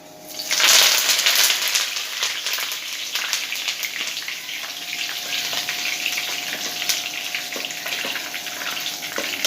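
Curry leaves dropped into hot oil for a peanut mixture burst into a loud hissing sizzle, then settle into a steady crackling fry with small pops throughout.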